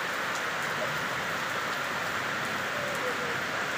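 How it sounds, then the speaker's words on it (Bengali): Steady rain pours down in a dense, even hiss of drops striking surfaces nearby, continuous and moderately loud with no voices. "এই যে দেখেন বৃষ্টি, অনেক সুন্দর বৃষ্টি হচ্ছে মাশাআল্লাহ"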